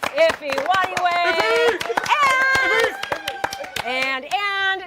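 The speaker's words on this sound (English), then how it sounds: "Why not clap for her?" A live audience claps for a panelist at a D&D live show, with a burst of sharp hand claps running under an announcer's voice as names are called out.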